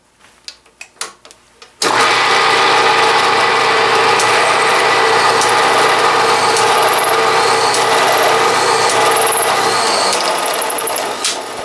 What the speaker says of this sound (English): you couldn't hear over the roar of the motor or the bearings